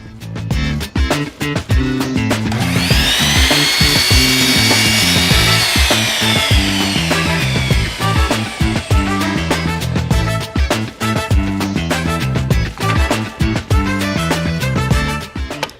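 Power saw with a disc blade making a 45-degree cut through wood, a loud sustained whine from about two seconds onward over the motor, with rhythmic rubbing and knocking throughout, no talk.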